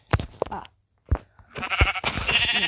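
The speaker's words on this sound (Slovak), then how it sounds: "Máme ovcu." Sheep bleats from the Minecraft video game, several short wavering calls in the first half, then a stretch of busier game noise and a brief voice near the end.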